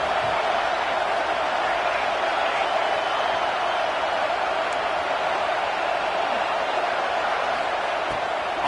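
A home crowd at a football game roars loudly and without a break, a dense, steady wall of cheering with no pauses.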